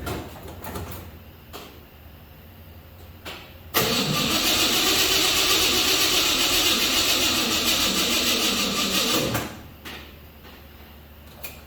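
A 1955 GMC 100 truck's rebuilt 327 engine starts for the first time after a few clicks, then runs at a steady loud roar for about six seconds before shutting off.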